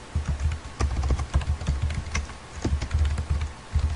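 Rapid typing on a computer keyboard, close and crisp, with clusters of clicky keystrokes in an uneven rhythm and short pauses between bursts.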